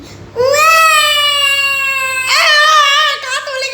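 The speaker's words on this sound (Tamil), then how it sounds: "ஏன் பாப்பா இப்படி அழுத?" A baby wails loudly and close up: one long, steady, high-pitched cry that breaks into a few shorter, wavering sobs.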